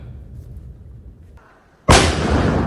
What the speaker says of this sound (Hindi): और देखिए तस्वीरें आप, कितनी जोरदार धमाका है।